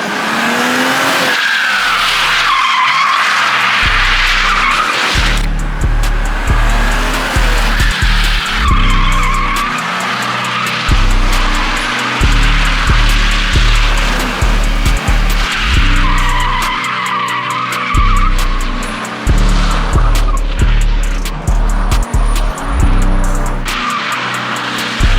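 A drifting car's engine surges in rapid on-off bursts as its tires skid and squeal loudly and continuously through the corners, close and intense throughout.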